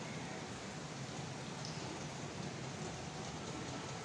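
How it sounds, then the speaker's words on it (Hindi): Steady rain falls outside at a home, a continuous broadband hiss of even loudness with no breaks and no voices. "अभी बारिश हो रही है।"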